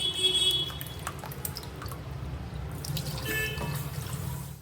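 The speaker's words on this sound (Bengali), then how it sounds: "এখানে আমি দুই কাপ চিনি নিয়ে নেব দিয়ে দেবো এক কাপ জল" Water is poured into a saucepan holding sugar to make syrup, a soft trickling splash with a few drips, close and fairly quiet in a home kitchen.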